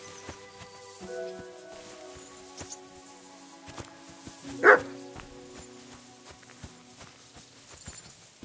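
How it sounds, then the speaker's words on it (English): Bonnie, a dog in the medieval role-playing game Kingdom Come: Deliverance II, lets out a single sharp bark at mid-distance, standing out against a quiet ambient background. "Barking?"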